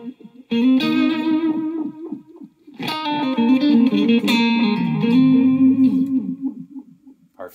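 Electric guitar notes played through a Mor-Gain Alchemist delay pedal with a phaser also engaged, each phrase trailed by swirling, repeating echoes that ring on continuously, up close with no talking.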